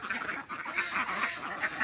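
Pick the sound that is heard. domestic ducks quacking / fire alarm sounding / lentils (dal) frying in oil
domestic ducks quacking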